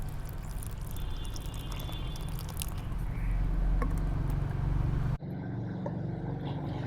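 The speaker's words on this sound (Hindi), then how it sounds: "नॉर्मल टेम्परेचर पर रखा हुआ पानी इसके अंदर डाल दें।" Tap water at normal temperature poured into a container: a steady, fairly loud gush and splash lasting about five seconds, then stopping abruptly into a quieter tail.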